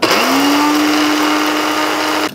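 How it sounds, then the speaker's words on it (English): A blender grinding a bagel into breadcrumbs, a loud steady motor whine that spins up quickly, holds for about two seconds and then cuts off abruptly, close and alone. "I'm gonna stick this in the blender."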